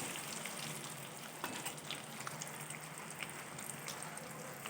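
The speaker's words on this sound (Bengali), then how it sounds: "এখানে 5টা ডিমই আমি ভালো করে ভেজে নিচ্ছি" A dense, steady crackling sizzle of five eggs frying in a pan fills the whole stretch, with no voices.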